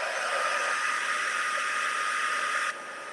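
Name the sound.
heat gun melting Stampin' Up! embossing powder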